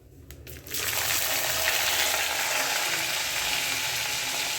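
Chopped onion hits hot oil with cumin seeds and starts frying, a steady loud sizzle that rises after a brief quieter start and holds evenly, with no voices.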